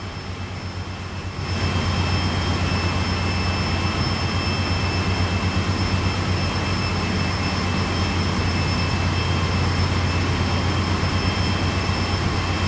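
An AT&SF freight train rolls past on Cajon Pass in a train simulator game, a steady loud rumble with a low engine drone and rail noise that swells after a quiet second and then holds, continuous and close.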